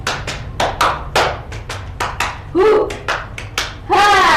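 Rhythmic group clapping in a classroom ice-breaker: sharp close claps in a counted pattern, broken by short bursts of voices and a cheer near the end.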